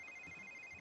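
Several phones ringing at once in The Sims 3, a steady electronic ring tone holding through nearly a second before cutting off, fairly quiet and with no talk over it.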